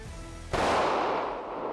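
One sharp pistol shot cracks out suddenly at a shooting practice, loud and close, followed by a decaying echo; a faint low murmur precedes it.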